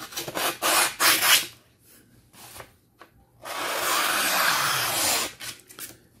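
A Victorinox Soldier pocket knife's serrated edge is drawn through material in single strokes without sawing, giving broadband rasping cuts: short bursts, then a longer sustained scrape, close and fairly loud.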